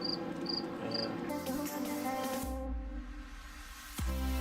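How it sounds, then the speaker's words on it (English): A loud cricket chirps at night in Zion National Park, its three short, high pulses repeating clearly at the start before fading into a dense wash of other night sounds and low rumble. "It's a loud cricket."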